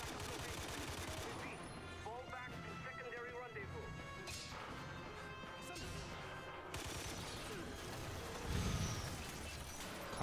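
Enemy gunfire in the Quantum of Solace console game, a dense run of shots and impacts over a busy game soundscape with a heavier burst near the end; speech is present alongside.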